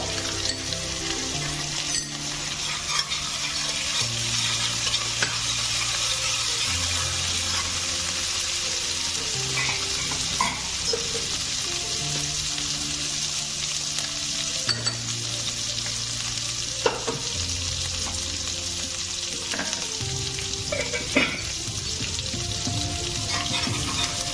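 Chili powder fried with onions in a pan for a thin catla fish curry makes a continuous close sizzle with stirring and occasional light clinks of a utensil, steady and fairly loud, with no talking.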